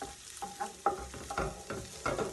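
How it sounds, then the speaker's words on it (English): A spoon stirring tomato pasta sauce in a pan over low heat, a series of soft scraping and clicking strokes over a faint simmering sizzle, close and without talking. "Give it a little stir."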